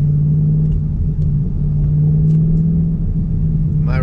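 A 2022 Roush Mustang with a six-speed manual cruises on a crowded highway, its engine giving a steady low rumble throughout, with a brief burst of higher noise right at the end.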